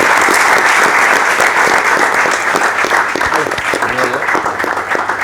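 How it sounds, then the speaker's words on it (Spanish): A crowd gives loud, dense applause that holds steady for several seconds. The clapping comes from many hands and stays close and full throughout. "un aplauso para romper un poquito el hielo"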